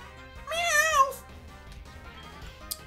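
A single loud cat meow rises and falls in a Pokemon Storm Silver game, followed by quieter game tones and a brief click.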